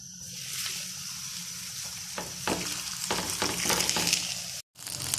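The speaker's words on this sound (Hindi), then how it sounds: "यहाँ पे तवा हमारा गर्म हो चुका है, इस पे घी लगाएंगे हम। और इसके ऊपर पराठा डाल देंगे हम।" A paratha sizzles in ghee on a hot tawa griddle, a steady close frying hiss with sharper crackles building partway through, cut by a brief dropout near the end.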